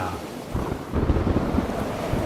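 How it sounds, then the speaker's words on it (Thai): Storm at sea as a boat meets fierce wind: a loud, low rumbling roar of gusting wind and thunder, continuous and swelling midway, with no voices. "ในระหว่างการเดินทาง เรือของพวกเขาได้เจอกับลมพายุ"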